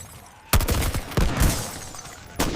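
Bursts of gunfire in a video game bank hostage mission: a sharp volley, a second cluster of shots a moment later, and another blast near the end, loud and close over a low background.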